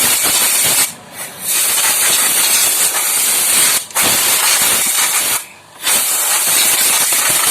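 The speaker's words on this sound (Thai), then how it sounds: "อันนี้เราใส่น้ำมันเครื่องแล้วเราก็เป่า" Compressed air blasts into the oiled seat lock of a Honda Click 125i scooter, a loud, close, steady hiss broken by three short pauses.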